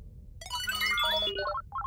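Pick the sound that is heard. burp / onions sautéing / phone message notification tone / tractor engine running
phone message notification tone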